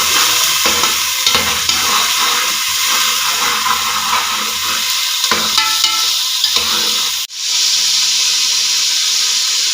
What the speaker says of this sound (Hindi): अब इसमें ये मटर जो है ये डालूंगी।